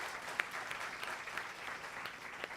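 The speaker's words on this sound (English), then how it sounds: "One round of applause again for all the panelists who took the time to be able to talk to you today." Brief burst of audience applause for panelists at a management institute conclave on the future of work, a steady dense clapping wash from a seated crowd, moderately faint.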